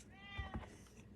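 A cat indoors at a card-stamping craft table gives a couple of quick, soft meows close by, brief and faint against quiet room noise.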